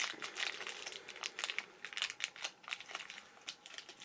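Plastic bag crinkling and rustling as a cheap eBay ring is unwrapped, with a steady run of close, crisp crackles and small bursts throughout and no talking.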